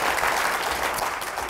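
Audience applause at a book concert lecture, a full, steady round of many people clapping close and loud, with no talk over it.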